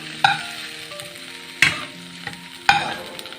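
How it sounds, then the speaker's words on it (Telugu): Coriander leaves fry in oil in a pan, a steady sizzle broken by three sharp stirring scrapes spaced about a second apart, close by and with no voices. "దీనికి ఈ రెసిపీకి కొద్దిగా నూనె కొంచెం కొంచెం వేసుకుంటూ వేపుకోవాలండి"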